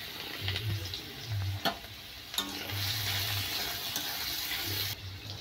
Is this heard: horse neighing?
no